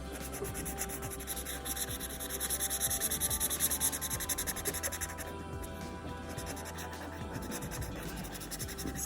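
Sketch pens fill in color on paper with a continuous soft scratching and rubbing, strokes swelling slightly in the middle and carrying on without any talk.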